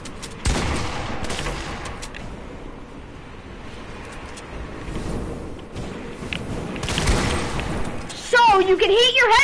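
Gunfire in a video game shooter, repeated bursts of shots at fairly low level under ongoing conversation, with a louder burst near the end.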